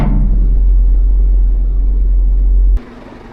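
A vehicle rumbles loudly along about a kilometre of off-road track on a sheep farm, a close, heavy low drone that cuts off abruptly near the end.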